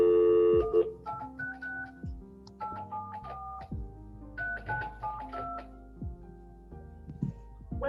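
Telephone keypad tones beep in a series of short dialing pulses spread across several seconds while calling Language Line in a courtroom, clear and close with a low hum beneath.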